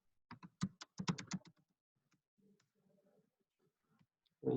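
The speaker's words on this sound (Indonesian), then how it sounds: "Kita bisa ketikkan nama di sini." A name being typed on a computer keyboard: a quick run of close, sharp key clicks in a burst, followed by a few scattered taps and quiet shuffling, then a louder knock at the end.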